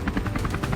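Helicopter during a wild boar hunt, its rotor giving a loud, rapid, steady chopping pulse up close across the whole short moment.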